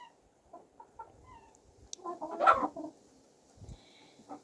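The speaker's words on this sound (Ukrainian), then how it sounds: "Півники тут бачу попідростали такі непогані, а курочки маленькі" Young roosters and hens in a small backyard flock give soft scattered clucks and short calls, with a brief louder squawk midway, moderately close and otherwise quiet.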